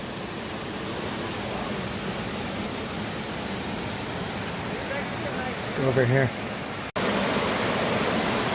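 Broad, steady rush of rainy-season waterfalls on a hiking trail near Taxco, Guerrero, Mexico, filling the whole stretch at a constant level, with a person speaking briefly near the end and a short dropout before the roar resumes.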